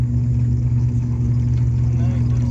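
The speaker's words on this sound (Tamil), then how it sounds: "வேறு இதில் 2 பக்கம் இன்ஜின் சவுண்டு தான்." Alliance Air propeller plane engines on both wings heard from inside the cabin in flight, a loud steady droning hum that stays constant throughout.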